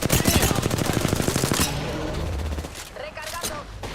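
Fast, evenly spaced automatic fire in a shooter game, a loud rattling burst for the first second and a half, then scattered shots and game sounds fading lower, voices faintly underneath.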